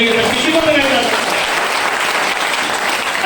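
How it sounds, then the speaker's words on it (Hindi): A seated audience at a speech claps loudly and steadily for a few seconds, a dense, continuous wash of hands close by, with a voice speaking over the start. "ताली जोरदार वाली बजाइए सर"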